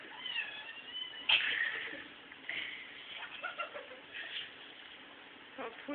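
A dizzy kitten meows several times, its high, thin cries close and a little strained, spread across the clip with quiet voices talking in between.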